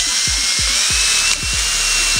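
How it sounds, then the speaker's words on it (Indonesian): Power drill boring into the back of a plastic bottle, a loud steady high whine with repeated low thumps about every third of a second, close up and without talk. "Jadi saya akan mengebor pada bagian belakang botol ini."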